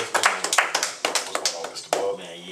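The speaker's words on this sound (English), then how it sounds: "Y'all please join me in giving a round of applause for Mr. Keith Brown is in the building" A few people give scattered, uneven applause to welcome a guest on a radio show, sharp close claps running for a couple of seconds with voices mixed in.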